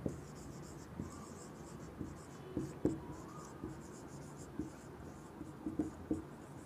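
Pen or pencil writing on paper during a Class 7 maths lesson on integers, heard as soft intermittent scratching and tapping strokes close to the microphone, with no talk over it.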